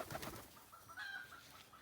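Pigeons kept indoors at a farm, faint soft cooing and a brief higher call in a quiet room, with light rustling and no talking.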